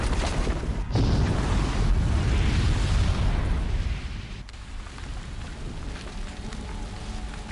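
Bomb explosion in the video game Horizon Zero Dawn, a loud rumbling blast with crackling debris that swells for a few seconds, then fades into a softer lingering roar.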